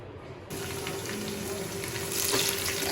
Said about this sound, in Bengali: চুলার ফ্রাই প্যান করতে দিছি এবার পেঁয়াজ কাঁচামরিচ ভালো করে একটু ভেজে নিব